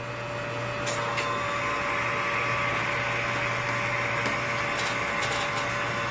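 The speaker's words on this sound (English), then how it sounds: "we want to leave the SEM at vacuum. So we will pump it back down again." Vega3 scanning electron microscope chamber pumping back down to vacuum after closing the door: a steady, continuous mechanical hum with a constant tonal drone, running unchanged throughout with a few faint clicks, no talk.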